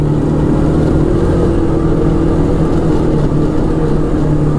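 Heard from inside the cabin, an Arctic Cat Wildcat 1000X UTV drives off with a loud, constant low engine roar and a steady drone, and no one talks over it.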